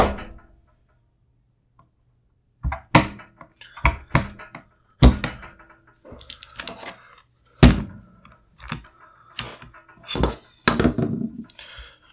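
Brownells BRN-180 Gen 2 rifle being taken apart, sharp metallic clacks, thunks and clicks arriving irregularly after a quiet start, close and loud.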